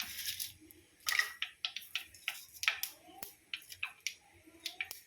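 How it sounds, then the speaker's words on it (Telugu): Cumin and mustard seeds crackle in hot oil for a tomato pickle, a quick run of sharp irregular pops and snaps close by, loud and dense, with no talking over them. "ఇదిగోండి పోపు చిటపట్లాడుతుంది."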